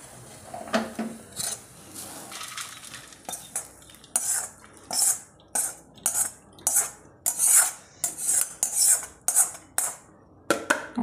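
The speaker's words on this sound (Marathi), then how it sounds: "आता हे मी थंड करण्यासाठी प्लेटमध्ये खाली काढून घेणार आहे।" A metal spoon scrapes and taps roasted spice mix from a pan onto a plate, a rhythmic series of sharp clinks and scrapes that grows more regular and distinct toward the end, with no talking.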